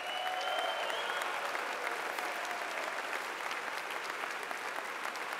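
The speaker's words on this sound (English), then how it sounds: "Let's give her a round of applause." A school assembly audience applauds a staff member, with steady, even clapping from many hands in a reverberant hall, moderately loud and sustained throughout.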